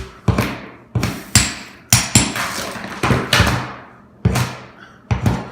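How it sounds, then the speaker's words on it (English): Repeated hammer blows knocking up old floor tiles during a home floor makeover, about eight sharp loud impacts at irregular intervals, each with a short clattering decay as tiles crack and loosen. "You just keep hammering it down and you lift them up."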